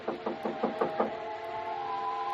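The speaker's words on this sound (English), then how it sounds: "someone knocked on the door" Sharp knocks on a hotel room door come in a quick run of five or six evenly spaced raps, followed by a lingering tonal hum from an old radio-drama recording.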